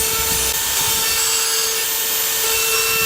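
Makita 40V die grinder running a fine burr against metal, a steady high whine with a constant tone and gritty grinding texture, loud and close throughout with no talking.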